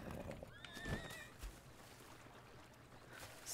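A horse in Zelda: Breath of the Wild gives a short, high whinny near a dangerous bridge, with soft hoof clops and a splash-like burst around it, no speech.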